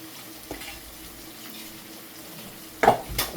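Onion dropped into a hot pan to fry, a soft low sizzle followed by louder stirring clatter and scraping near the end, with no talk.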